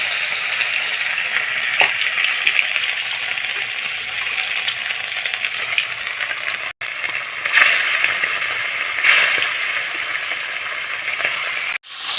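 Steady, close sizzling of fish frying in hot oil in a kadai, a dense continuous crackle with a few brief dropouts and no talking.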